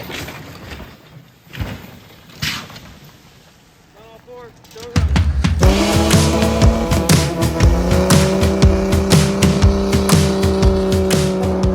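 A $200 Jeep off-roading in the New York woods, its engine revving loudly and steadily, with rising and falling engine tones close by. Quieter rustling comes first, then the engine kicks in abruptly as people speak.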